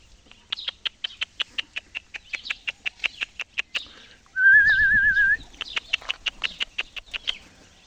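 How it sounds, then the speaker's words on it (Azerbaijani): Young pigeons, with a few adults among them, in a loft in Siyazan give rapid, evenly spaced high squeaks. The peeping pauses for a brief warbling whistle, then resumes. "Bu da bizim bala quşlarımızdır."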